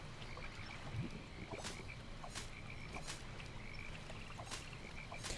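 Frogs croaking in the fantasy MMO Albion Online, repeated raspy calls at a loose, steady rhythm over a soft watery outdoor background.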